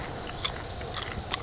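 Crunchy bacon cooked outdoors on an island is bitten and chewed, giving a few short crisp crunches over a steady background hiss.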